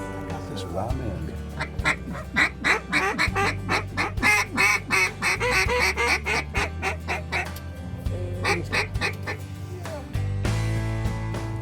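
A flock of ducks and geese honks and quacks in rapid overlapping bursts over flooded fields at a river confluence, loud and close, the calls thinning out near the end over a steady low drone.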